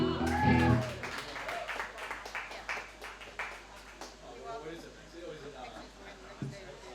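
Audience at the Kentucky Heartwood Music Festival clapping for a performer, a burst of applause that fades over several seconds as someone speaks over it.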